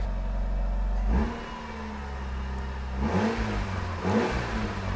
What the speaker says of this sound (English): Just give it a couple of revs.